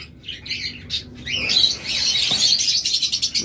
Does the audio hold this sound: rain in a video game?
no